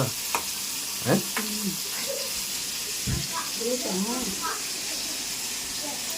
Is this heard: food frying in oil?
yes